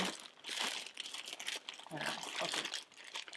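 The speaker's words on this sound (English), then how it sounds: "open the package" Plastic mailer wrapping on a vintage dress package crinkles and crunches steadily as it is opened up close, with a few sharper rustles in the middle.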